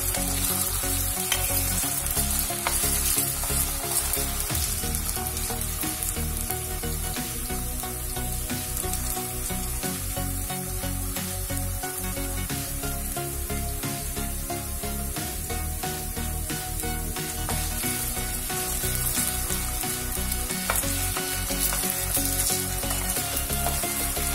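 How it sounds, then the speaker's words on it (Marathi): Potatoes frying in hot oil for a vegetable pulav, a loud, dense, unbroken crackling sizzle heard up close and steady throughout. "आता आपला हा आलू फ्राय झालेला आहे"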